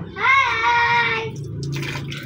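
Water gushes steadily from a hose at close range for about a second before easing into a softer trickle, with faint background voices.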